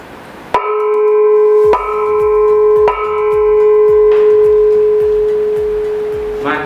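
A gong is struck four times to open a high school orientation ceremony. Each loud, close strike blooms into a long, humming resonance that overlaps the next and rings on after the last hit.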